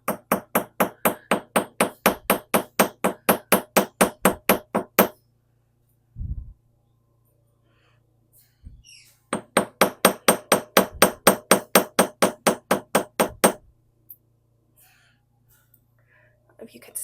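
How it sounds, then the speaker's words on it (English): Planishing hammer flattening small metal balls for a pinned pendant in a jewelry studio: two long runs of fast, evenly spaced metallic taps, close and bright, separated by a pause with a couple of soft knocks. "I'm going to use a planishing hammer to flatten these balls"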